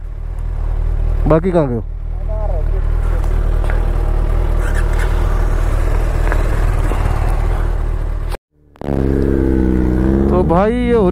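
A Hayabusa superbike engine idles and revs on a rough off-road hill track near Chakrata, a steady close engine drone with rising rev sweeps at the start and end and a brief cutoff, while someone speaks over it.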